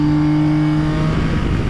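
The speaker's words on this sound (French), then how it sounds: "profiter de la santé du moteur qui chante quand même super bien" A Yamaha Tracer 9 GT+ Y-AMT motorcycle engine hums loud and close, a steady droning tone with a slight rise in pitch.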